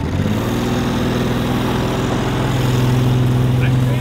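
A Ford Ranger engine running roughly on only two or three cylinders, a loud, uneven lawnmower-like chug with a steady low drone, close and continuous while a person talks over it.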